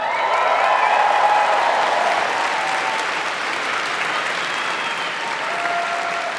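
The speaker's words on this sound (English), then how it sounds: "and then everybody clapping" A live convention crowd at a Star Wars Celebration panel claps steadily, a broad even wash of applause with light cheering underneath.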